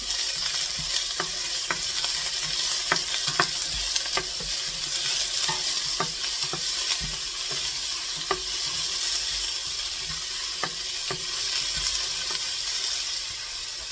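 Steady hissing sizzle of onions frying in a hot pan for pasta sauce, with occasional scraping and stirring clicks scattered throughout.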